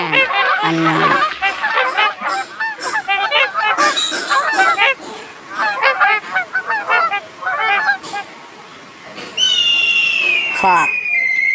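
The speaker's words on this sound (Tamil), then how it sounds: "swan அண்ணன்." Swan calling in a rapid series of loud, nasal honks, dense and overlapping like a flock, ending with a drawn-out whistling note.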